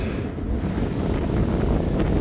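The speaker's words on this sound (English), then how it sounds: "still quite windy" Steady, roaring wind buffets the microphone throughout, a continuous low rumble with no voices, on a steep Scottish mountainside near Inverey.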